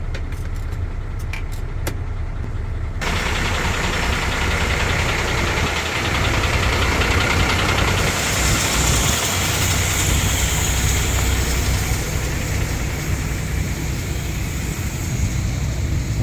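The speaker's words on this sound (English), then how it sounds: "It's a 10-ton big lorry." A 10-ton lorry's engine idling at close range, a steady low diesel rumble with a faint knocking texture continuing throughout, with a few brief clicks early on.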